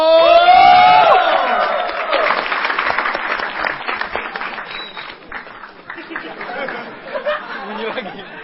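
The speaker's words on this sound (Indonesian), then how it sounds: "1, 2, 3, mau tepuk tangan yang meriah untuk Lalo" Loud audience applause and cheering as a stand-up comedian takes the stage at a comedy show, a burst of whoops and claps that slowly thins into scattered clapping and chatter.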